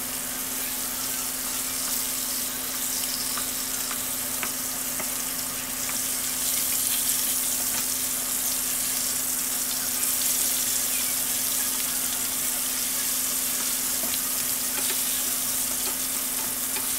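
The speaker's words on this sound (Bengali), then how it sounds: "তেলটা গরম হওয়ার পরে একটা একটা করে মাছ আমি দিয়ে দিলাম।" Whole fish pieces sizzle and spit in hot oil in a frying pan, a steady, loud, continuous crackle running throughout with a faint low hum beneath and no voices.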